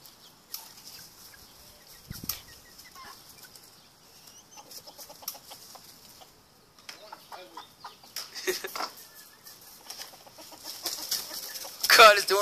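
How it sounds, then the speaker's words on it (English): Chickens cluck in scattered, faint bursts with occasional louder squawks, mixed with distant movement and noise, fading in and out over a quiet background. "Get away from the chicken."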